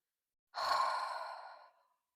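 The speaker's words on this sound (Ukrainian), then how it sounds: "І ми робимо такий дуже глибокий видих." A pregnant woman in a seated yoga pose lets out one long, deep exhale, a close, breathy rush of air that fades steadily over about a second with no talk.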